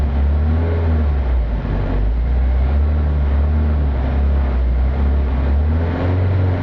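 A car engine, fitted with a lambda sensor under test, revs up and holds at raised speed, producing a loud, steady, near drone with slight surges and no voices.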